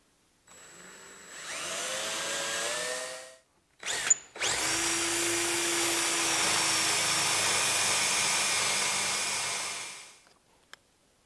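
A power drill whirs steadily into wood, widening a hole for a T-nut, with a brief pause and restart, running loud and close for several seconds before stopping.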